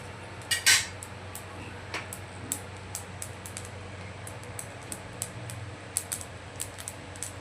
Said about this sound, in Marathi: हे बघा छान याचा तडतडा आवाज यायला सुरुवात झाली